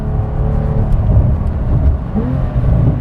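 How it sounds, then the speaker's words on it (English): A Porsche 911 T engine revs up and blips during an automatic rev-matched downshift on a public road, a loud close-up cabin roar with rising and falling engine pitch. "And the rev match, I mean, it's rev matching for me."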